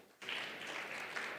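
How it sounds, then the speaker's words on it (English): An audience at a World Food Day 2021 event welcomes a speaker with applause that bursts in suddenly after a brief quiet moment and continues as a dense, steady patter of clapping, heard from some distance. "Let's welcome her with a huge round of applause"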